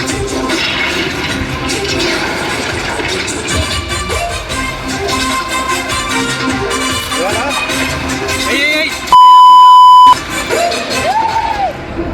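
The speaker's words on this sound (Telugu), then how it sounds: "మధ్యలో బీప్ సౌండ్ ఏంటని షాక్ అయ్యారా?" A single steady censor bleep tone of about one second cuts in near the end of a movie-review vlog, loud and pure, briefly replacing background music and crowd noise.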